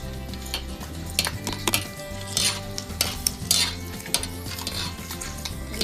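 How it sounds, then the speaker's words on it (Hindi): Dough pieces frying in ghee make a continuous sizzle, broken by frequent clinks and scrapes of a utensil against the pan, with no one talking. "तो चलिए अब इनको करते हैं फ्राई एक एक करके"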